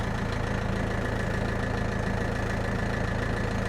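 A DTZ 5404 tractor engine idles at low revs, a steady, loud, continuous diesel rumble with a fine knocking pulse throughout, no voices over it.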